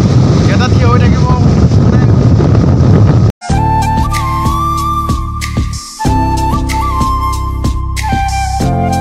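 Strong wind buffets the microphone at a hilltop Parvati temple, a loud steady roar for about three seconds before music takes over.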